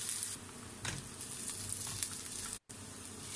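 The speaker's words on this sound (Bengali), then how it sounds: "তো পেঁয়াজটাকেও আমি খুব হালকা করে ভেজে নেব" Chopped onions frying lightly in a pan for palak paneer give a faint, steady sizzle that runs on without pause, with a brief break near the end.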